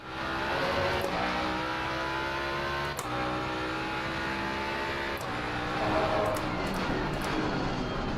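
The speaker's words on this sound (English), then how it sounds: "The sound of a jag is also usually accompanied by screaming tyres that have no grip." A vintage Jaguar race car engine in the racing game Assetto Corsa Competizione at Suzuka drones continuously at high revs, with gear shifts and brief pitch changes, loud and constant throughout.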